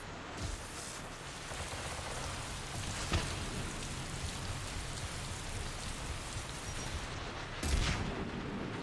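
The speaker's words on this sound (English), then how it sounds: "Rains a lot here, doesn't it?" Steady rain in a Mass Effect 3 multiplayer match, a dense continuous hiss of falling drops with a couple of muffled thuds from gunfire or impacts, and no talking.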